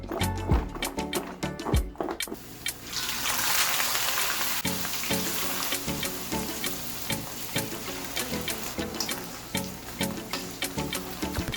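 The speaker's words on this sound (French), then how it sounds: "on va passer à la friture" Steady crackling sizzle of salted potatoes frying in hot oil, continuous and close, with occasional clinks and stirring knocks over it.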